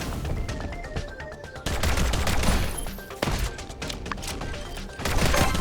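Rapid pistol fire in the farming-adventure game My Time at Sandrock, loud sharp shots bursting in quick clusters with brief gaps, over a busy game soundscape.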